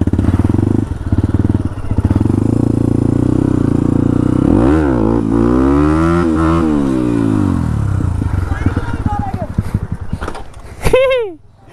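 A stunt motorcycle revving hard during a wheelie challenge, engine pitch rising and falling in loud sweeps, with people talking and shouting over it.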